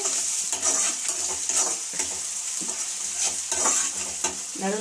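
Onions being stirred while they fry in a pan, giving a constant bright sizzle broken by regular scraping strokes of the spoon, close and fairly loud.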